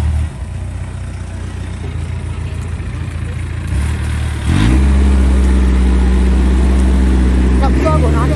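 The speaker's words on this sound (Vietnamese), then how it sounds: "Động cơ của nó đều là được xài là động cơ Kubota hết." Diesel three-wheeled cargo vehicle with a Kubota engine running, a steady low engine drone that steps up to a louder, deeper idle partway through, with someone talking over it.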